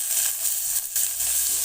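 Chopped onion and garlic frying in hot oil on a low flame for Bengali masoor dal, a steady close, bright sizzle and hiss running throughout with a brief dip near the middle.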